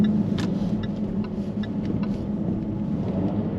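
Jaguar F-Type V6 (X152) sports car driving through a roundabout U-turn; a steady low engine rumble with road noise heard from inside the cabin, continuous and moderately loud with faint ticking.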